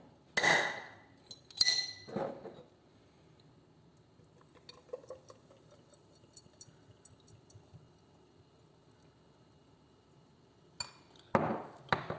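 A bottle of home-brewed light Keller-style barley beer is opened: a few sharp glassy clinks and clacks, a quiet fizzing stretch, then more handling knocks, close and faint overall.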